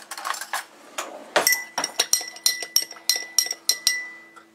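A long spoon stirs a cocktail in a glass, clinking crisply against the sides. About a dozen sharp, ringing taps come in a quick, steady rhythm, close and clear, with no talking.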